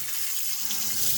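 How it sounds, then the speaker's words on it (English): Tap water runs steadily into a kitchen sink while a lobster is given a quick rinse, a continuous close splashing flow with no voices. "So just quick wash in the sink"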